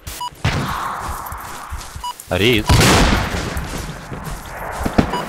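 An RPG strike hits a base during a shooting game, sounding as sharp bursts and a heavy boom among scattered gunfire, with someone speaking briefly over radio-like chatter.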